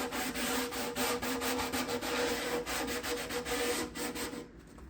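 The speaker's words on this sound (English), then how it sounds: "I'll put some 150 on here, and I will sand the guitar lightly, like I'm doing now," A guitar body sanded lightly with 150-grit sandpaper gives a close, steady series of quick back-and-forth rasping strokes that stop abruptly at the end.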